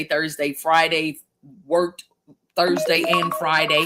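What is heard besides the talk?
mobile phone alert sounding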